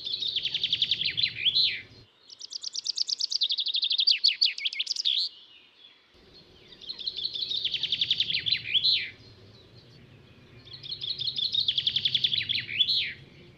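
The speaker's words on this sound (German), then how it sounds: "Eine der besten Eselsbrücken für einen Buchfink-Gesang ist «Gib, gib, gib, gib mir das würzige Bier»" A common chaffinch sings four repeated phrases, each a bright accelerating trill that tumbles down into a flourish at the end, separated by short pauses, close and clear over a faint low background hum.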